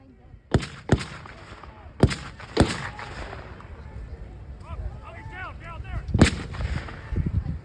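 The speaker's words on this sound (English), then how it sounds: "He's laying down a base fire. They're still laying down base fire." Sharp blank-fire gunshots from Marines laying down base of fire during an assault demonstration at a tank farm open house, with several loud, widely spaced reports, one later burst, a narrator talking over them, and outdoor crowd noise behind.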